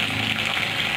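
Cornflour mixed into water is poured into a pan while making bread manchurian, a loud continuous gushing splash lasting about a second.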